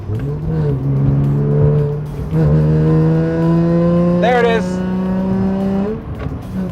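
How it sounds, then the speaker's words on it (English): Nissan Z33 Fairlady Z with a VQ35HR V6 revving steadily up to high rpm, a loud, rising engine tone heard from inside the car, with a person speaking briefly over it. "There's a VQ noise. So up top, it still sounds like a VQ."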